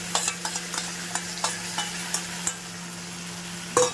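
Pointed gourd fries in a pan as a ground poppy-seed and nut paste goes in, with a soft continuous sizzle and a steady series of light spatula taps and scrapes, then one sharper knock near the end.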